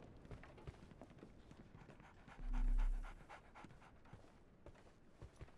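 A dog pants in quick, steady breaths throughout, in Sherlock Holmes: The Awakened, with a brief low hum swelling near the middle and some soft background noise.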